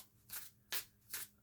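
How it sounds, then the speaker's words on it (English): A tarot card deck is shuffled by hand, three quick riffling bursts in an even rhythm, close and quiet. "then you just shuffle it like this"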